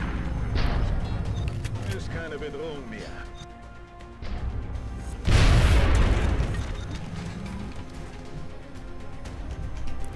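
Weapons fire and a blast destroying a Cyberdisk in the XCOM Long War video game: rumbling impacts build up, then a loud, broad explosion bursts around the midpoint and decays slowly, with someone talking over it.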